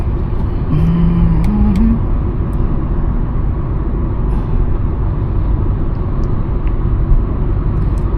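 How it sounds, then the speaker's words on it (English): Hyundai i20 N Line with a 1.0-litre turbo GDI engine on the move, a steady low cabin rumble of engine and road noise, continuous and fairly loud with no talk. "so basically this is a 1 liter turbo GDI engine"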